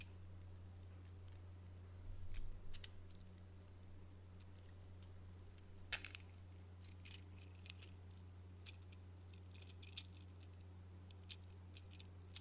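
Keys on a lanyard jangle softly in quiet, intermittent bursts of small metallic clinks, close and gentle like a wind chime, with no talking.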